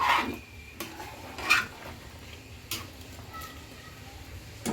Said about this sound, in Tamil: நம்ம கிண்டி விட்ருவோம் கறிப்படாமல் உடையாமல் கிண்டி விடுங்க